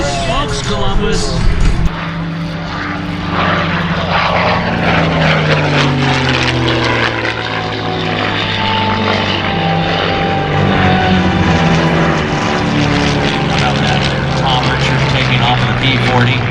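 P-40 warplane taking off at the Columbus airshow: a loud, continuous propeller engine drone with shifting pitch that rises and holds, while people talk over it.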